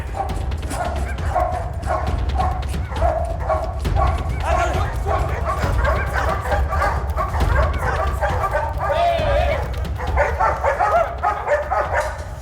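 Dogs bark and yip repeatedly over a noisy, busy scene while people talk and shout throughout.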